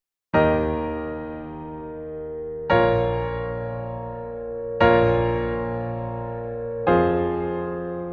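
Piano plays the chords of a song as four sustained, ringing block chords struck a couple of seconds apart, each decaying slowly, clear and alone.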